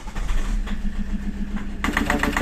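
Toyota car engine with a fuel filter warning light and an engine noise fault, a loud close steady idle that shifts as the engine turns over partway through.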